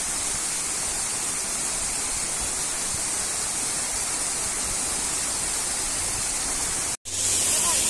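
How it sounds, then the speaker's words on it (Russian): Trufanets waterfall in the Carpathians, 36 m high and five-tiered, roars as a constant broadband rush of falling water, close and loud throughout, with a brief dropout near the end before the roar resumes. "Водопад Труфанець. Высота 36 метров, пятиступенчатый."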